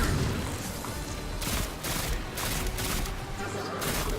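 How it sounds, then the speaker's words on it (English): An enemy fires purple blocks of goo in Destiny 2. The shots come as a dense, continuous run of sharp bursts and impacts that carry on without a break, with no one talking. "It's firing those purple blocks of goo at me again."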